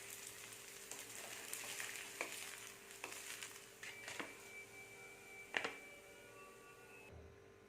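Carrot rava dosa frying in a pan, a soft steady sizzle with a few clicks and scrapes of a spatula near the end, no voices.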